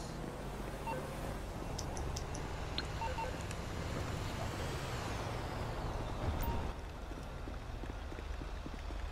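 Garbage truck in GTA V Online with a heavy, continuous engine rumble and a sharp hiss of air brakes, loud and steady with faint beeps and clatter mixed in.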